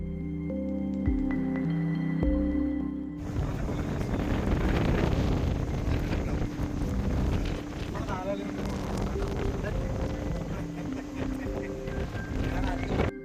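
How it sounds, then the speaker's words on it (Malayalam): Strong wind buffets the top of the Silent Valley rainforest watch tower, a steady loud roaring rush that sets in after about three seconds, following a few brief tonal sounds, and keeps blowing without a break. "ഇവിടെ എപ്പോഴും ശക്തമായ കാറ്റ് വീശിക്കൊണ്ടിരിക്കും"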